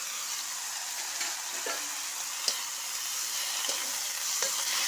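Bottle gourd with salt and turmeric cooks in a pan, with a continuous close sizzle and occasional light scraping and tapping from a stirring spoon.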